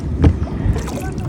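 Paddle strokes push a boat across water, with one splashy dip followed by a softer second stroke within a second or so, close to the microphone and partly under a voice.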